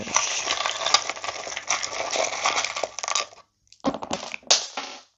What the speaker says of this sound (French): il y a des charms qui sont tombés par terre